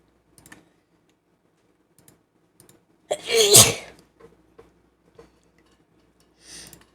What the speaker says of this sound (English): I sneezed while making it, so it sounded funny.